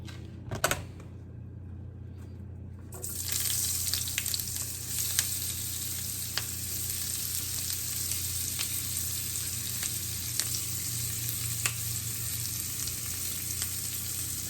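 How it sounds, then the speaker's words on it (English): Onions sizzling and frying in a pan of butter and bacon fat, a steady close crackling hiss with a low hum beneath and scattered pops, starting after a brief quieter moment. "We can go ahead and put the onions in."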